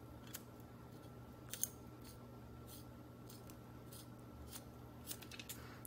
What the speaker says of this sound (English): I just take regular scissors and I go around the edge like this